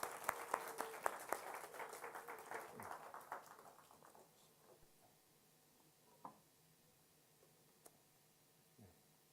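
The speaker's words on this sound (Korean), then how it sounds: "우리 큰 박수로 환영해 주시기 바랍니다." A church congregation claps to welcome a pastor to the pulpit, with fairly faint, brisk applause that fades over several seconds into a quiet room, leaving a few isolated sounds.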